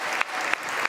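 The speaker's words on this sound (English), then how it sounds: "everybody can have an applause, first of all, for the host here" An audience applauds the host at a freestyle chess Grand Slam Tour event, a steady mid-distance wash of many hands clapping with a few sharper bursts through the second.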